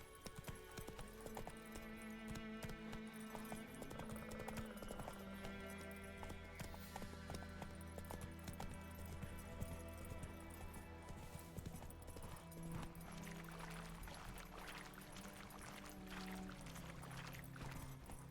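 The horse Roach gallops in The Witcher 3, with steady rhythmic hoofbeats continuing throughout over a dense musical game score.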